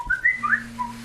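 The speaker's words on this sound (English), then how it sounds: "I am so sorry my phone's going off like crazy." Mobile phone notification sounds going off during a Dark Souls II gaming session: about a second of bright, rising electronic chirps in quick succession over a steady low hum, with no talking.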